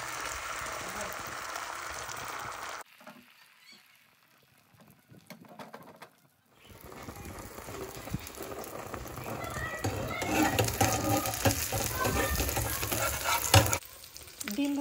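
An egg fries in a hot pan for khichuri. A soft sizzle fades to near quiet, then returns as a louder, crackling hiss with scraping that builds toward the end.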